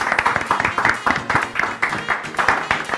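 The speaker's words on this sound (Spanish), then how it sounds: "Aplausos a Pato." A small group claps in a steady, rhythmic pattern, evenly spaced claps repeating for a few seconds at close range, with some voices under the clapping.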